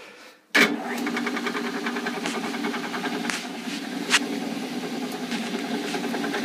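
A metal lathe motor starts abruptly and settles into a steady mechanical hum while turning a piece of oak for a tool handle, with faint scraping of the cut in the background.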